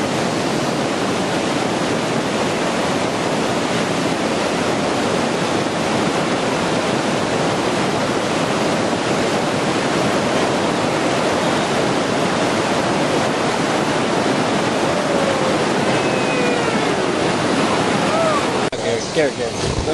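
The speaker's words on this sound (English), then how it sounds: "I give you double Z Rapid, our next force to be reckoned with. This one has the honor of being the longest and most technical rapid on the New River Gorge." Whitewater of Double Z Rapid in the New River Gorge rushes in a loud, continuous broadband roar for the whole stretch, with faint voices barely audible near the end.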